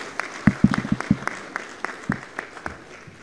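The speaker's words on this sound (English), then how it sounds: "let's give a big round of applause to Hezron Ngosa as he comes through now" Scattered hand claps from an audience at the Kenneth Kaunda memorial public lecture, a handful of sharp, close claps at first, then sparser, softer claps trailing off.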